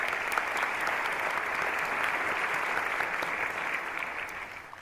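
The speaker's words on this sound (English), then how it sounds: "If you would give them a round of applause, please." A ceremony audience at a Phoenix Police Department awards event gives a steady round of applause, a dense, even patter of many hands clapping without pause.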